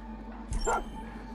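A dog in Far Cry 5 gives a single short, close bark against faint background hum.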